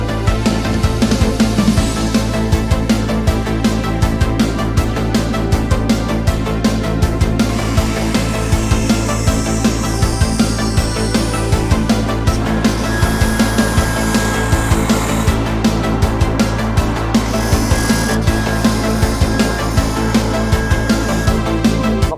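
A power saw cuts through metal tube stock for a Triumph build, running continuously with a dense, harsh rasping whine that holds steady over about twenty seconds with no talk.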